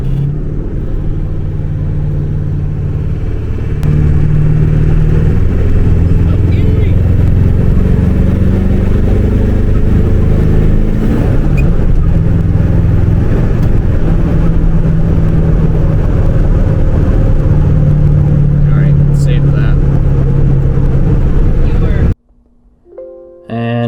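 Ford OBS Powerstroke diesel truck with an 80 horsepower tune, KC300X turbo, held at full throttle: a loud, steady, deep engine roar sustained for about twenty seconds before cutting off abruptly.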